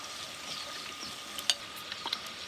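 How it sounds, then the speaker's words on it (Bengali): Vegetables for fried rice fry in oil in a wok, a soft steady sizzle with a few sharp clicks and scrapes of stirring near the middle and end. "এবার রাইসের সবজিগুলো ভাজবো। কড়াই সাদা তেল দিয়ে দেবো"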